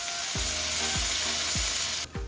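Soy sauce goes into a pan of sizzling onions and capsicum for dry gobi manchurian, a dense, continuous fry hiss with a few low repeated knocks, no voices.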